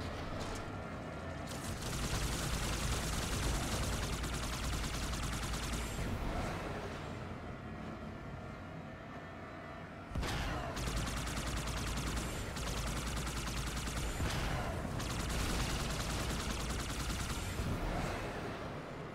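Sustained video-game gunfire in Halo 2 Anniversary, dense rattling bursts and booms that roar almost without pause, dipping briefly mid-way before surging again, with no speech.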